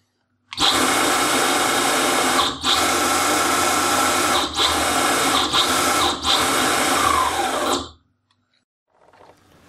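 An electric longboard motor on an open-source ESC whines loudly on a bench in five steady bursts, each cut by a brief pause, before stopping abruptly into near silence.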